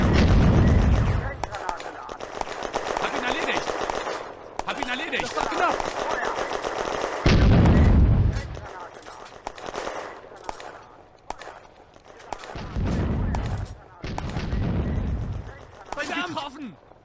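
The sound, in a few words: German Granatwerfer mortar firing, from the video game Firefight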